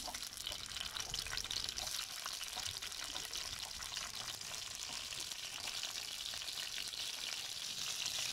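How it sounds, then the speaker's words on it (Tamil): Green chillies fry in hot oil with whole spices such as cinnamon, producing a loud, continuous crackling sizzle close up that holds steady throughout. "இப்போ வந்து நான் பச்சை மிளகாய் போட்டுக்கிறேன்"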